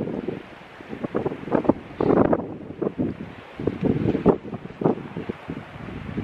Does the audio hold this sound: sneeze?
no